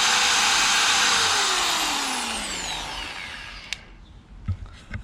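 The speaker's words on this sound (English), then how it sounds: "Before we carry on with the drilling" A drill grinds steadily against a stuck locking wheel bolt on an alloy wheel, loud and continuous with a faint whine, then cuts off, followed by a few scattered clanks and handling knocks.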